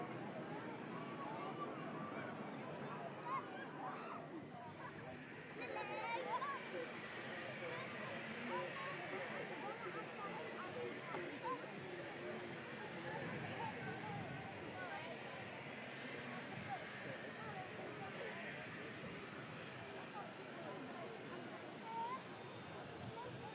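A Turkish Airlines airliner climbs out after takeoff, a steady broadband engine roar held at a distant, even level throughout, with faint crowd chatter mixed beneath it.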